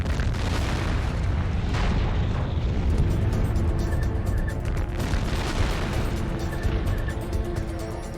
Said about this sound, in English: The blast is so strong, it shakes the traffic cam.